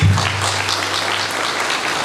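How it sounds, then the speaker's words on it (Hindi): An audience at a speech event claps loudly in a dense, sustained burst of applause, close and continuous for a couple of seconds. "आज मैं उनके लिए भी एक जोरदार ताली चाहूंगा।"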